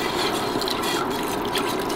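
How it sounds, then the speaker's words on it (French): Broth pouring into a pot for broccoli cheese soup, a steady liquid splashing and filling sound, close and continuous without pause. "On va rajouter notre bouillon."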